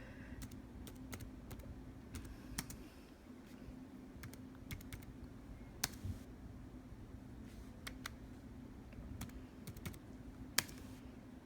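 Computer keyboard typing, a string of quiet, irregular key clicks over a steady low hum, with no voices.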